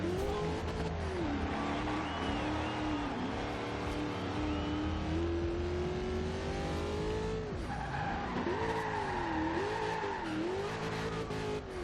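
A Ford F150 SVT Raptor drift build in Forza Horizon 2 slides through corners, its engine note wavering up and down continuously under steady tire squeal, loud and close throughout.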